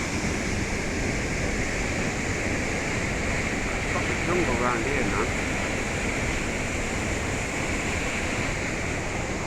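Havalem waterfall in Goa, swollen by the monsoon, roars with a dense, constant rush of water close by, while someone speaks briefly over it.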